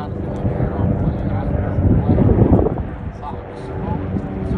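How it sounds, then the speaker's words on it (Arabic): A helicopter passes overhead near a palace compound, a steady broadband rotor and engine roar that swells toward the middle and then eases, mixed with wind buffeting the microphone. "سمعوا الهليكوبتر"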